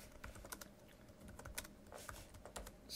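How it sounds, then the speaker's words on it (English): Typing on a computer keyboard, a steady run of quick, uneven key clicks at close range, with no voices. "So just type this out here."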